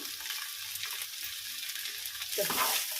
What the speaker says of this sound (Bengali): এবার নুন আর হলুদটা দিয়ে আমি একটু ভাজা ভাজা করে নেবো এটাকে।